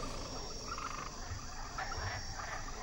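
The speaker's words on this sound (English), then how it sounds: "Ask Jehovah to take away the frogs." A dense chorus of frogs croaking without pause during the biblical plague of frogs in Egypt in an animated series, with low croaks pulsing under a steady background din and no voices.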